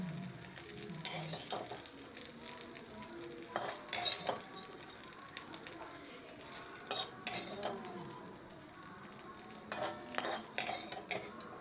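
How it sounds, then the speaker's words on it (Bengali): Soybean chunks fry in a kadai, with a soft sizzle under repeated clanks and scrapes as a metal spatula stirs them against the pan in sharp, irregular bursts. "এভাবেই আমি লাল লাল করে সোয়াবিনগুলোকে কড়াইতে ভেজে নিচ্ছি"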